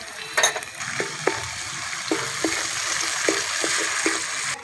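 Ground spice paste of turmeric, cumin, coriander, chili, ginger and raw peanuts fries in oil for a Bengali cabbage prawn kofta curry, crackling steadily as a utensil knocks and scrapes the pan in a regular series of sharp taps.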